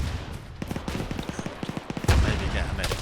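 Pistol fire in ARMA 3 with RHS mods, a rapid series of sharp, evenly spaced shots over about a second and a half, followed by a louder burst of noise.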